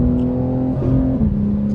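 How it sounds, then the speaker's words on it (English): BMW M4 Competition fitted with aftermarket downpipes accelerating from inside the car, a steady loud engine drone climbing in pitch, briefly dipping and shifting near the one-second mark, with no talking. "let me go ahead and get on the gas a bit."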